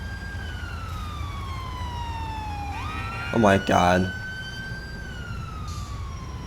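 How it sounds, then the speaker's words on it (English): Wailing ambulance siren in the video game GTA IV with the LCPDFR police mod, a smooth falling-then-rising wail that turns into a rapid yelp burst midway before returning to the steady wail, with a brief exclamation from a voice. "Oop, got an ambulance coming."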